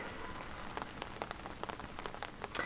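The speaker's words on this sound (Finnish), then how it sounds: "Ja sitten sataa vettä." Rain shower falling during a disc golf tournament round in Finland, a steady wet patter with brief sharper drop taps and splashes, close and moderately loud, no talking.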